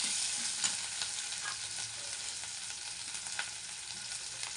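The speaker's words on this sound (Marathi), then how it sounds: "आता मी यात टाकते कट केलेली हिरवी मिरची. आपण याला असं मिक्स करून घेऊया." Chopped green chillies and onion fry in hot oil while being stirred for rava upma, a steady broad sizzle running throughout with faint scraping stirs and no voices.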